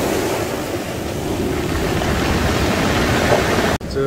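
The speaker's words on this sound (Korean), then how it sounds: "사가리 굴러가는 소리가 가르르 나네요." Steady roar of waves breaking on a pebble beach on Korea's east coast in the morning, with pebbles rattling and rolling in the surf, loud and continuous.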